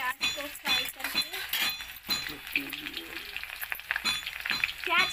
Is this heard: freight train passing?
no